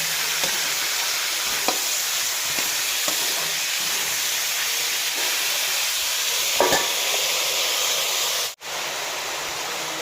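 Turnips and fresh green peas fry with tomato and onion, giving a loud, continuous close-up sizzle. A few light stirring taps sound along the way, and the hiss briefly cuts out near the end.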